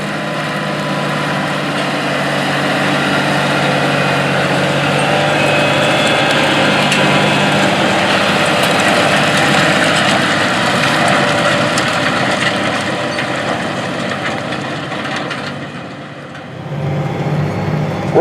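A John Deere 8345R tractor engine runs steadily in a spring field during a pass with an anhydrous applicator, heard from inside the cab as a loud, continuous drone that eases off near the end.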